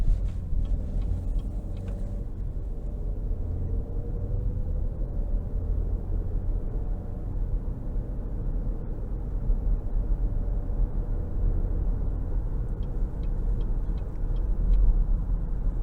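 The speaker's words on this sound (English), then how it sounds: "let's go ahead and take this 2023 Terrain out on the road for a quick test drive" A 2023 GMC Terrain Denali AWD with a 1.5-liter turbo engine cruising on the road, heard from inside as a low, steady rumble of engine and tires, fairly quiet with no talking.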